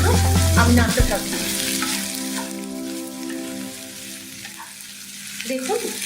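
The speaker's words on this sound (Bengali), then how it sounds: "সম্পূর্ণরূপে মিক্স না হওয়া পর্যন্ত আমি নাড়তে থাকবো।" Chicken pasta stirred in a frying pan, a steady soft sizzle with scraping stirs and a brief louder clatter at the start, no voices.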